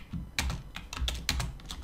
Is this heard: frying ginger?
no